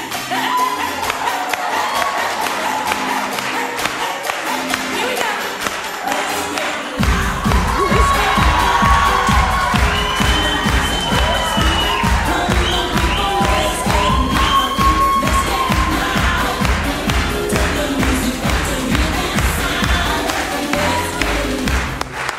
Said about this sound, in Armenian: Այո, ծափարությունները